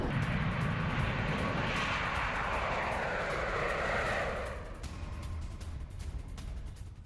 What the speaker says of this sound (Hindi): बैरेंट सागर में TU-160 कैसे उड़ान भरता नजर आ रहा है।